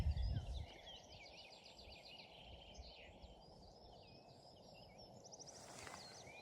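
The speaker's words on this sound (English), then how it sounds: "Just listening to the bird life." Several birds sing and chirp in Harwood Forest, with quick repeated phrases carrying from a moderate distance over a faint, steady outdoor hiss, and one short low thump near the start.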